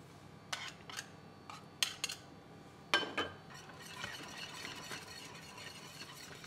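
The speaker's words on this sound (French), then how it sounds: "Alors, je vais le faire au fouet, je préfère." A whisk clinks and scrapes against a metal pot while a custard mixture for Portuguese custard tarts thickens, giving a few sharp, bright taps early on and then a steady, softer rubbing whir, close by.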